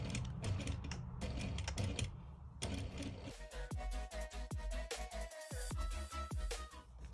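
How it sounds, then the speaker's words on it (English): A sewing machine stitching a seam to join pattern pieces for a zip fly, first in a rapid run of needle strokes, then in slower, distinct rhythmic clacks with brief pauses, close and clear. "use our sewing machine to join both pattern pieces together"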